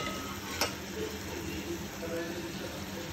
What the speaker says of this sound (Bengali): মাছগুলো ভালো করে ভাজছি